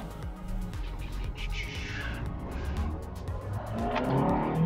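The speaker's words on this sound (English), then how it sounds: "more induction sound coming from the intake" Intake induction roar from a car engine fitted with a larger throttle body, revving up and down over several seconds and heard close from inside the car, rising in loudness toward the end.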